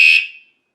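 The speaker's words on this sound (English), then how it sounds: "Now the alarm is set, so if it vibrates or if it's moved in any way, it's going to go off." A bicycle anti-theft vibration alarm lets out one short, loud, high-pitched electronic beep that fades away within half a second, heard alone.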